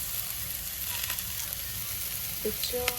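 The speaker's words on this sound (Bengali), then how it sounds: "এখানে আমাদের হচ্ছে ভাজা আলু আর পটল ভাজা হচ্ছে।" Potato and pointed gourd pieces fry in oil with a continuous close sizzle, broken by a few clinks and scrapes of stirring near the end.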